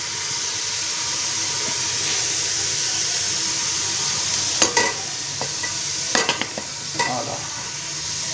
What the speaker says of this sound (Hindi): घी भी डाल दिया हमने और मटन डाल दिया है। अभी इसको हल्की आंच पे जो है पहले फ्राई करते हैं